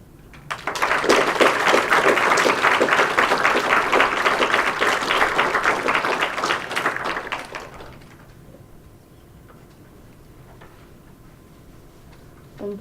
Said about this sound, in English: One more round of applause for Jade.